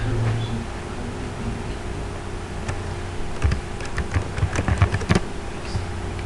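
Someone types on a computer keyboard while writing in Microsoft Word. Key clicks start sparse and build into a busier burst of close taps over a steady background hum, with no voices.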